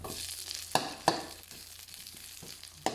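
Ginger and onions frying in a pan, a quiet continuous sizzle with a few sharp clinks and scrapes of a utensil stirring, close by and without talking.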